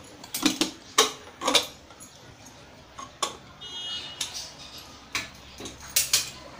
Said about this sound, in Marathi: आपण झाकण उघडूया।